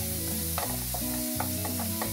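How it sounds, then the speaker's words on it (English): Sausages sizzle in a frying pan with a steady, close crackle, broken by a few soft scrapes of stirring. "I'm going to allow my sausages to cook for very few minutes"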